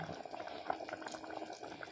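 Milk and water for kheer boil steadily in a pot, a dense, even bubbling and hiss that runs without pause for two seconds, fairly quiet and with no talk over it.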